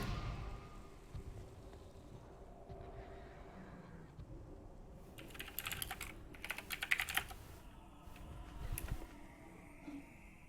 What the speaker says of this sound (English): I have a very loud mechanical keyboard.